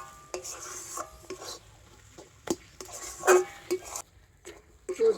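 Dough is stirred and mixed in a bowl, giving intermittent scraping and knocking of a utensil against the bowl in irregular bursts, close and fairly quiet, with brief pauses between strokes.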